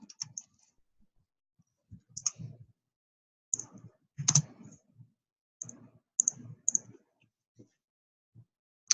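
Intermittent clicks and taps of fingers typing a text message on a computer keyboard, quiet and close, arriving in short bursts separated by pauses.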